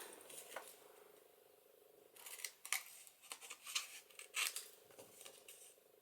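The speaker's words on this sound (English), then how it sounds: "So cut the corners off." Scissors snip the corners off sheets of heavy 250 GSM printed cardstock for a holiday paper-craft journal, giving a run of short, crisp close-up cuts in quick irregular succession after a quiet start.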